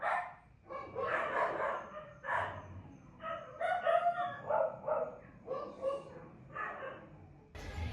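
Roosters crowing back and forth at night with dogs barking among them, a loud sequence of overlapping crows and barks at a travel volunteer's local setting, fairly close and continuous.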